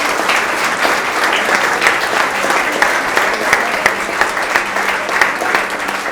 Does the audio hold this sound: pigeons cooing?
no